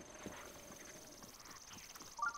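A horse's hooves clip-clop in Zelda: Breath of the Wild, a quiet, evenly paced run of soft game footstep thuds over a faint ambient hum.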